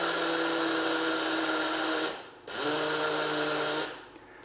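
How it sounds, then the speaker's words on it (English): Electric spice grinder whirs loudly as it crushes a mix of white and black mustard seeds, running in two steady bursts with a brief pause between them. "all we're going to do is to grind this up"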